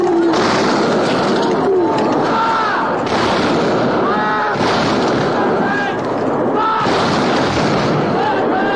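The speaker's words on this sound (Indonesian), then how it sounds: "mengomandoi pasukan dengan tembakan bertingkat" Rifle volleys from American troops firing in ranks against Zulu warriors crack out in repeated bursts every couple of seconds, mixed with loud shouting voices.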